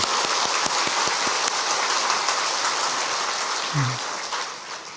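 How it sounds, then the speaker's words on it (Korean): A church congregation at a Sunday afternoon worship service applauds the teachers. The clapping is dense and sustained, like a wash of rain, and thins out near the end. "우리 선생님들을 위해서 큰 박수 부탁드리겠습니다."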